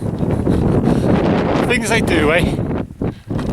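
Strong wind on the Penycloddiau hilltop buffets the microphone with a loud, roaring rumble that swells and briefly drops near the end, while someone speaks over it.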